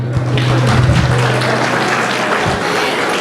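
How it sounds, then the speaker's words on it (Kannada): An audience at a Kannada Rajyotsava celebration claps in a dense, steady patter throughout, with a low hum running beneath the applause. "ಚಪ್ಪಾಳೆ"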